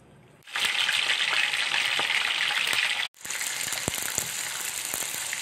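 Chicken gizzards drop into very hot oil and set off a loud, steady frying sizzle that dips briefly to near silence partway through, then resumes at full strength.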